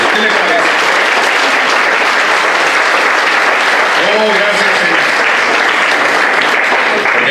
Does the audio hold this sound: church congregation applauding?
yes